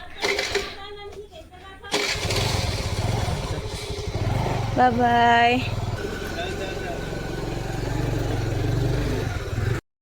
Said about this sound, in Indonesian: Sini nyobain naik motor ya.